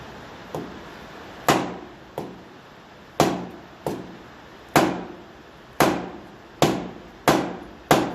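A hammer strikes a part on a Massey Ferguson 35 tractor near the wheel and mudguard, about a dozen sharp, close blows in an uneven rhythm, some harder than others, each ending quickly, with no talking.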